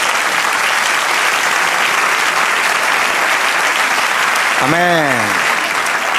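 A church congregation claps and cheers in praise at a Spanish-language service, a thick continuous wash of applause, with a brief sung or spoken 'amen' rising near the end.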